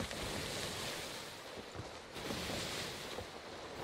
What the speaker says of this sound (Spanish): Ostras, las olas, eh.